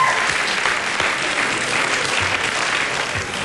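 An audience applauds steadily, a dense wash of clapping that holds at an even, loud level throughout.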